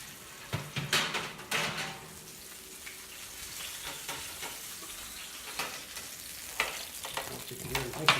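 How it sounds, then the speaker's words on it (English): Hot rumaki hors d'oeuvres just out of the oven sizzle and crackle steadily, with scattered pops and scraping clinks of a pan or utensil, close up and moderately quiet. "You can hear them nice and hot, sizzling."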